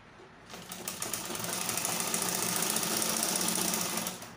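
A sewing machine stitches along the top of a box pleat skirt, running as one steady, fairly close whir for about three and a half seconds after a short quiet start.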